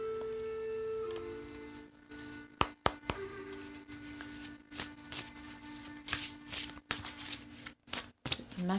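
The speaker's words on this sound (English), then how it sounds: "so we're going to shuffle the cards." Tarot cards being shuffled by hand, with crisp riffling and sharp snapping clicks in irregular bursts over a steady background hum, close and fairly loud.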